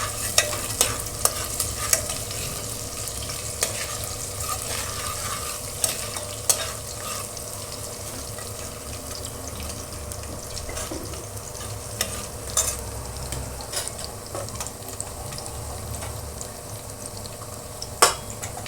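Onion and curry leaves fry toward golden for an Agri-style spicy chicken curry: a dense, even sizzle with frequent stirring scrapes and light clinks of utensil on pan, no talk.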